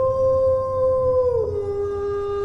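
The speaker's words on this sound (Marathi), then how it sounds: "दूर कुठेतरी जंगलात कोल्हेकुई झाली" Jackals howl in a forest at night, one long sustained wail that holds steady and then slides lower in pitch, loud and clear against a quiet background.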